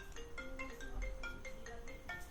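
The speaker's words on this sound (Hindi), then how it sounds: "पिंकी देखना किसका फोन है" A phone rings with a repeating electronic melody, faint and a little distant, looping several times without pause.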